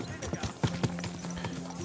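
Horse hooves clip-clop in Kingdom Come: Deliverance 2, a few close, uneven hoof knocks over a short stretch, under game audio and talk.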